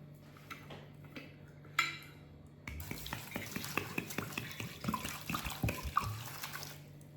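Running water pours steadily into a stock pot for chicken stock, splashing and gurgling with occasional clinks of metal, preceded by a few soft kitchen clatters.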